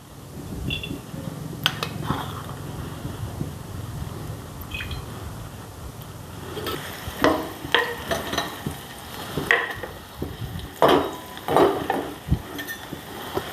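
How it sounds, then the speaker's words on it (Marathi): Onion frying in oil in a kadhai, a soft continuous sizzle that grows busier as a spoon stirs and scrapes the pan in irregular bursts, close by with no speech. "हे कांदा चांगला हलवून घ्या कांदा चांगला लाल होऊ द्यायचा आहे"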